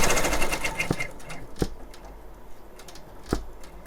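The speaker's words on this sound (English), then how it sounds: "So now it's going to do the tack down, and because I put the tape out of the way, it's going to allow it to do the satin stitch" An embroidery machine sews a tack-down pass ahead of a satin stitch on a craft project. Its close mechanical whir carries sharp periodic needle clicks and short knocks at an irregular pace.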